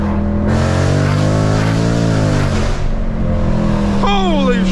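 Ford Shelby GT500 running on E85 accelerates hard, its loud engine note climbing steadily in pitch through the gears from up close, with excited voices cutting in near the end.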